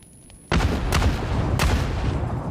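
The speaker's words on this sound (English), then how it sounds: "It's a great explosion on the vehicle." A grenade blast on a vehicle in the PUBG video game: a sudden loud boom followed by sustained rumbling and a couple of further sharp bangs.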